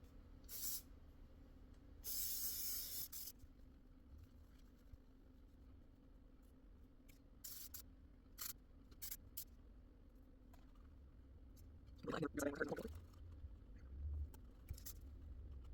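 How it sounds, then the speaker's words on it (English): Hairspray hisses from a can onto hair in several brief, soft bursts separated by quiet pauses, with faint background rustling and a louder thump of movement near the end. "This is like the weakest hairspray I've ever used in my life."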